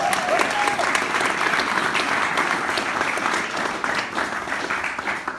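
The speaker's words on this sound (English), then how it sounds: "Everyone give a round of applause for Aya Josiah Fidelon" An audience at a Providence, Rhode Island event with Governor Gina Raimondo breaks into sustained, even applause that fills the whole stretch, with a faint murmur of crowd voices beneath the clapping.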